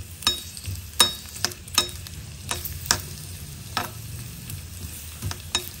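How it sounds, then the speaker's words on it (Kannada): Chopped onion frying in oil in a pan while being stirred, a steady close sizzle broken by sharp spoon scrapes and clinks at irregular intervals. "ಈರುಳ್ಳಿಯನ್ನು ಚೆನ್ನಾಗಿ ಹುರ್ಕೋಬೇಕು ಎಣ್ಣೆಯಲ್ಲಿ."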